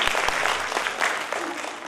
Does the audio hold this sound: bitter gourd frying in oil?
no